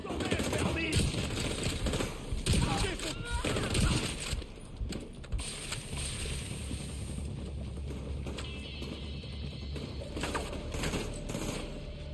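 Gunfire from the video game The Division 2 rattles in rapid bursts, dense and loud in the first few seconds and then thinning into scattered shots. Some voices talk faintly underneath.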